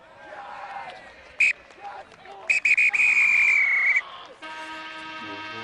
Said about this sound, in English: the referee is going to whistle us for the end of this matchup here